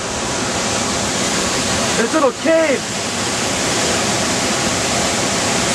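Fossil Creek waterfall in Arizona roars close by in a loud, steady broadband rush, with a brief spoken remark partway through.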